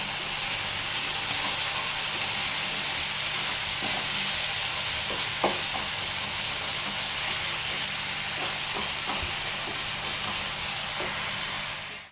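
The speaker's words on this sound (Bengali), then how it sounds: "মশলাটা ভালোভাবে কষতে হবে তাহলে খুব টেস্ট হবে দেখুন" Masala spices for a jackfruit and potato kosha curry stirred and fried in a pan, a steady close sizzle and hiss with occasional scraping stirs, no voices.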